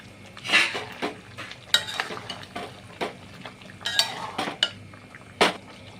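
Cashew paste and fried potatoes go into the pan for elachi chicken, followed by a run of metal spoon scrapes and clinks against the pot over a light sizzle.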